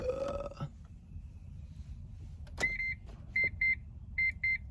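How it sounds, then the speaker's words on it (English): An Audi S4 gives out short electronic warning beeps, two quick pairs of tones after a short rumble and a click, near and clear inside the car. "it's got the classic S4 beep."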